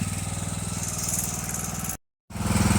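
An 18.5 horsepower Briggs engine on a John Deere LA100 lawn mower runs close by with a steady, rapid pulsing chug, cuts out abruptly for a moment, then comes back just as loud.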